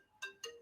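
A phone ringtone plays a short electronic melody of bright tonal notes in three quick bursts, faint and alone with no talking.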